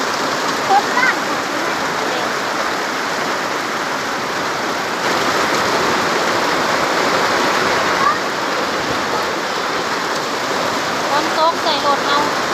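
Heavy rain falling during a storm in Laos, a loud continuous hiss of downpour on surfaces, steady and close, with a few brief faint sounds poking through.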